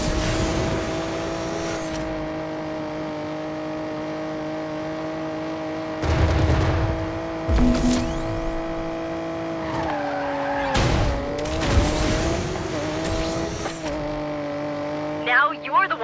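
Lotus Elise 111R racing in the Need for Speed Mobile video game, with a steady engine drone through the run, bursts of tire skidding and screeching as it overtakes, and voices talking over the action.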